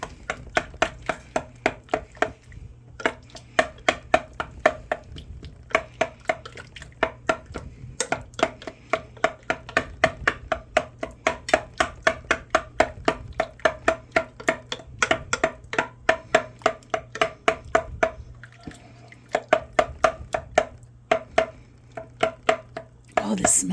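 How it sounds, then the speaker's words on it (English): Cooked potatoes in a slow cooker for kielbasa potato soup get struck repeatedly with a meat masher, producing a long run of rapid, regular knocking thuds against the pot with brief pauses between bursts. "I'm going to take my meat masher and I am going to go kind of chop up, well, mash up sort of some of those potatoes."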